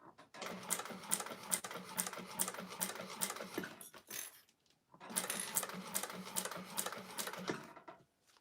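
A sewing machine stitches a clutch wallet in two fast, rattling bursts of about four and three seconds, close and loud, with a short pause between them.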